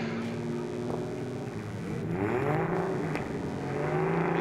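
Drift car engine at a D1NZ Pro-Sport drifting round in Wellington, revving with rising and falling pitch sweeps, loud and continuous over event ambience.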